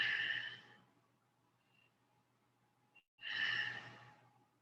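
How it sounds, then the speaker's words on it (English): Two deep breaths, an inhale and a long exhale, during a yoga twist practice, each lasting about a second and separated by a quiet pause, heard close and alone with a faint low hum beneath. "Take a deep breath."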